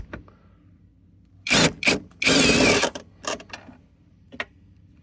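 A power tool on its lowest setting snugs nuts on a Sea-Doo Challenger 230 jet pump, giving several short, loud whirring bursts of varying length close by, separated by quiet pauses.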